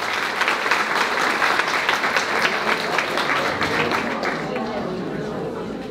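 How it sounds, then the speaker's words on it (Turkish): Audience at a Belgian Bulgarian Turks cultural association event in 2019 breaking into sustained applause, dense hall-filling clapping that slowly fades toward the end, with faint voices mixed in. "alkış rica ediyorum onlara da"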